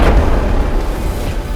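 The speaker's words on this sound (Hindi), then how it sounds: "जोरदार धमाका और इस धमाके में जैश ए मोहम्मद का कमांडर अबू माविया और उसका एक साथी ढेर हो गया।" A loud, deep explosion set off by security forces to blast a militants' hideout cave in a forest near Udhampur, a heavy rumbling boom that fills the clip and slowly decays.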